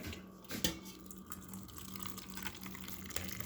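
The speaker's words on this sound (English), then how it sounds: "Let's pour it into the bag." Hot homemade mushroom ketchup is poured from a pot into a cotton bag, a steady soft liquid splash and trickle lasting a few seconds, close and moderately quiet.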